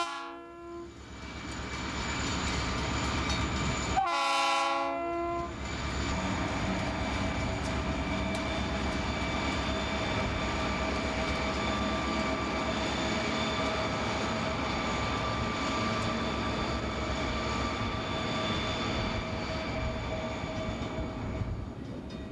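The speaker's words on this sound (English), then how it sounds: "This is the east edge of Yermo Yard with an eastbound train." A Union Pacific eastbound freight train rolls past at the east edge of Yermo Yard, its horn sounding in a loud, sustained multi-tone blast near the start before a steady, continuous roar of passing railcars fills the rest.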